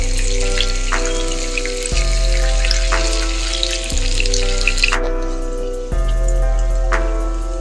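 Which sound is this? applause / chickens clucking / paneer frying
paneer frying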